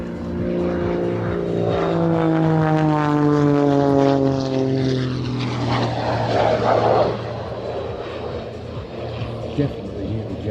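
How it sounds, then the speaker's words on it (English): A jet aircraft flies aerobatic manoeuvres and hovers vertically at an air show, its loud engine note sweeping down in pitch as it passes close by and then giving way to a broad roar, with crowd noise underneath. "Definitely hear the jets on there."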